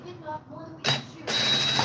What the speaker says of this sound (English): Let's take the air filter cover off and get a look inside the carb box.